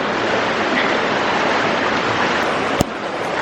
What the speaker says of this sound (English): We're sitting on a waterfall.